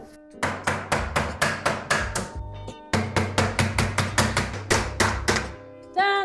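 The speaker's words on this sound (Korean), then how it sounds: "내가 볼때 그냥 망치로 톡톡 치면 빠질걸?" A hammer tapping a tightly fitted part of a premium aluminium storage shelf, a close, loud series of regular metallic knocks with ringing tails, two runs of about nine strikes each separated by a brief pause.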